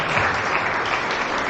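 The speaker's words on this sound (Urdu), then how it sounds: "آئے زوردار تالیاں زندہ خدا کے لیے" A church congregation claps loudly during a sermon, a dense, steady burst of applause from many hands filling the short moment without a break.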